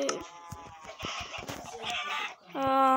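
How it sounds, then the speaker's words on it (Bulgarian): Minecraft chickens cluck in a short burst, several clipped calls overlapping one another and then a longer sustained tone, close and fairly loud with no speech. "ето, напълнихме го с кокошки."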